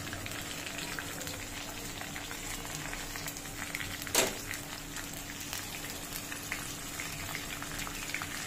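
Onions sizzling in a hot pan, a soft continuous crackle and bubbling hiss with one brief sharper sizzle burst midway, quiet and close.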